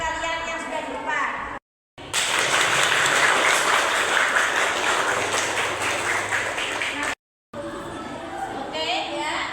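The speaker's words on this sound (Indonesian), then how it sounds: "Beri tepuk tangan untuk kalian, teman-teman kalian yang sudah di depan" Classmates in a school classroom clap for fellow students standing at the front, a loud burst of applause after a short gap, ending abruptly, with brief talk before and after.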